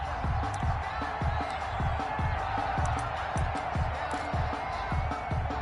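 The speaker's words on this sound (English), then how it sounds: "this crowd loves it as their guys hold on the opening drive" A stadium crowd in an American football video game, an online franchise AFC Championship with the Broncos, cheers as a steady wide roar, with rhythmic low thumps running beneath it and no commentary over it.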